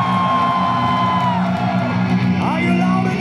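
Concert crowd at a live rock show in Moscow's Volta Club roars, whoops and shouts continuously, loud and dense, over sustained tones from the stage.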